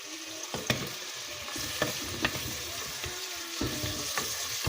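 Pork sinigang simmering in a claypot is stirred, with a steady bubbling sizzle broken by several sharp scrapes and clinks of a utensil against the pot, close and fairly quiet, with no voices.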